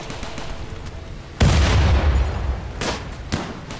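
A grenade goes off amid gunfire in the colony survival game Rimworld. A sharp boom lands over a low rumble of background noise, followed by a few fainter pops and bursts.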